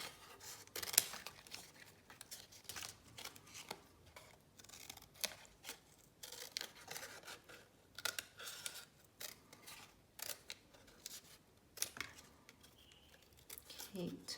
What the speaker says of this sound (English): I need to keep turning my paper as I cut.